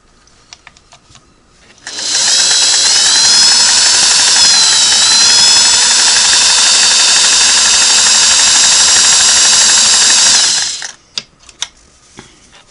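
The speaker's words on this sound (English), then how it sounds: "Let's see if we can do a wider zigzag stitch now" A Sweetness 401A sewing machine runs a wide zigzag stitch with a loud, steady whir that lasts about nine seconds and then cuts off, followed by a few light clicks.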